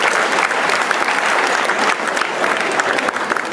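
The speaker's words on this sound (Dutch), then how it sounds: "Mooi, een applaus voor Tim Offerman." Lively audience clapping for a contestant on a game show, a loud, dense burst of many hands that holds steady for a few seconds.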